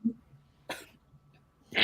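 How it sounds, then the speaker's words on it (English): A single sharp cough from nearby, with another starting at the end, separated by quiet breathing; no speech. "I keep coughing"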